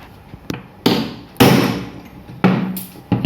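A hammer strikes a steel punch rod to mark metal for drilling, four sharp metallic blows spaced roughly half a second to a second apart, each ringing briefly before fading, close and loud.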